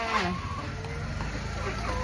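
Hens cluck and murmur on a small egg farm of about forty laying chickens, where eggs are being collected in the morning. Several birds overlap close by against a steady, low background hum.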